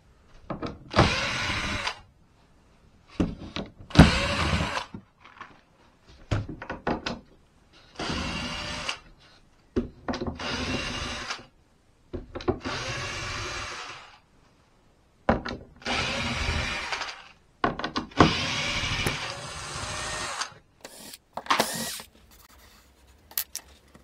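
Bursts of a small power driver or drill unscrewing the top of a model railway layout, short whirring runs separated by pauses, close and moderately loud.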